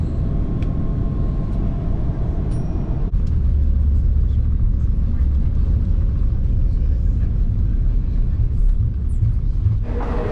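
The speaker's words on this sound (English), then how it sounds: "Coming in for landing" Cebu Pacific Air passenger plane on final approach and landing in Manila, heard from inside the cabin as a steady loud engine and airflow rumble with a shift partway through and a brighter surge near the end.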